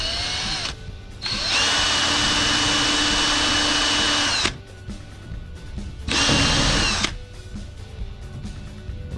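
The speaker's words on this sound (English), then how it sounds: "I'm gonna drill a hole." A power drill whirs loudly in two bursts while drilling a hole in an enclosed trailer, a long run of about three seconds, a pause, then a shorter burst, with quiet handling noise between.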